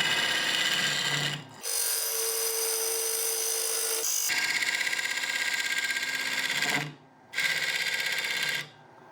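A gouge cuts a very dry wooden bowl spinning on a lathe, producing loud, steady rasping and whirring in long sustained passes broken by brief pauses when the tool lifts off the wood, close and with no talking.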